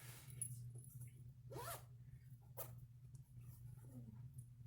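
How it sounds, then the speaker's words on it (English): A zipper on a handmade project bag is pulled in two or three quick, close rasping strokes, with a steady low hum in the background. "And I got the tail of the yarn stuck in the zipper."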